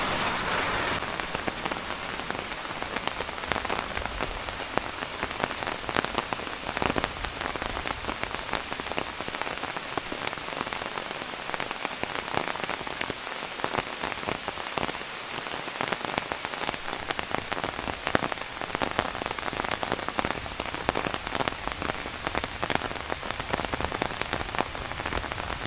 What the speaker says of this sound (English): Hooray for rain!